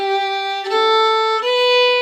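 A bowed string instrument plays a short phrase of a few sustained notes in an orchestra piece, clear and close with no talking.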